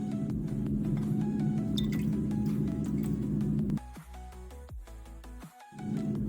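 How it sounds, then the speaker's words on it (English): Hydrogen peroxide poured into dissolving solid copper gives a steady fizzing, bubbling hiss with liquid drips and a faint clink, easing briefly near the end before the fizz resumes. "A little closer view as I add the hydrogen peroxide."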